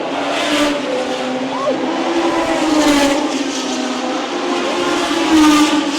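Racing cars at the Monaco Formula 1 weekend roar continuously in the near distance, a steady engine drone with rising and falling passes and no talking.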